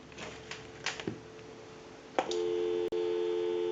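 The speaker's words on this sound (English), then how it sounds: "So we'll go ahead and give you some dial tone" On a Southwestern Bell single-slot payphone, a few mechanical clicks and clunks come first, then a steady, loud dial tone hums continuously, broken once by a brief click.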